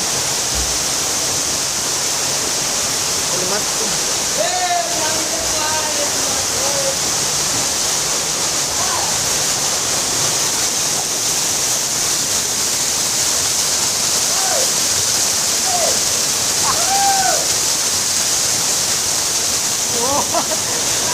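Ermayi Falls roars as a constant, loud, broad rush of falling water that fills the whole scene, with faint voices talking and calling underneath.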